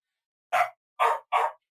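A dog barks three short, sharp times, one bark and then a quick pair, close and clear against silence.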